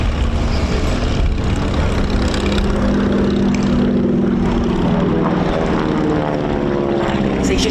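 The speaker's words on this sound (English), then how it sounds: "He's just demonstrating an aileron roll for us there." Harvard AT-6 Texan trainer aircraft roaring overhead at an airshow while rolling, its steady loud propeller and radial engine drone filling the whole stretch with a slowly shifting pitch.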